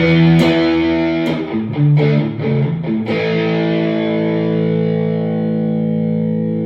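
An electric guitar through a Spark amp's Deluxe Reverb model plays a few struck chords and notes, then lets a final chord ring out with warm amp tone and reverb.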